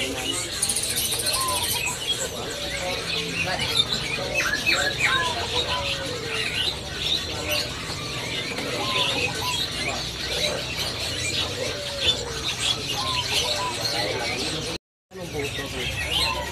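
Several caged songbirds, including a green leafbird, chirp and trill busily at close range over a constant background hiss, with overlapping calls throughout.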